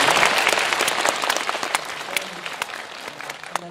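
Enthusiastic audience applause at a live film talk event in a hall, a dense burst of clapping that is loud at first and then thins out into scattered claps.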